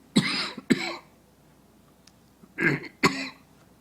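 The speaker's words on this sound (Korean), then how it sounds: "하루 종일 기침을 한 번도 안 했는데 꼭 여기 올라오면 기침" Two pairs of coughs, sharp and close, separated by a quiet pause of about a second and a half.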